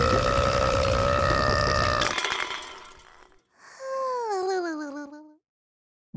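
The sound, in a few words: huge burp after drinking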